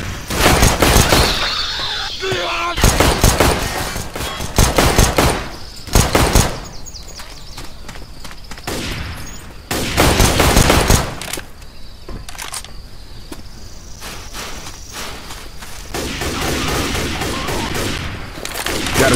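Left 4 Dead 2 gunfire comes in repeated dense bursts of rapid shots separated by short lulls, loud and close, with scattered game sounds between the volleys.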